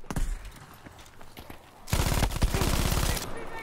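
Rapid bursts of automatic gunfire from Battlefield V in hardcore mode, scattered shots at first, then a loud sustained stream of rapid-fire shooting.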